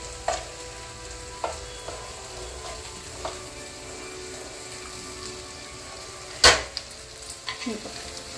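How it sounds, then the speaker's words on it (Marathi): Masala spices fry in hot oil in a home kitchen, giving a faint steady sizzle broken by occasional sharp clinks of a spoon stirring the pan and one louder metallic clatter. "याच्यामध्ये आता हा सगळा मसाला परतून घेऊ"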